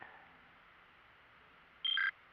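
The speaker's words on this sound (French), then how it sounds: "la télécommande elle bip" Over a faint steady hiss, a Traxxas LaTrax Alias drone's remote control gives a short two-tone beep near the end.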